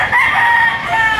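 A rooster crows loudly and close in one long drawn-out call at a busy outdoor fowl market in Lipa City, Batangas, with no talk over it.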